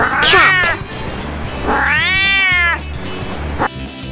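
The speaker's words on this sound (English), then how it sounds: "Cat." A cat meows in a drawn-out, rising and falling cry, then gives a second longer meow, loud and close, over a steady background music bed.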